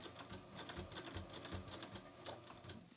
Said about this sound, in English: So I'm going to start stitching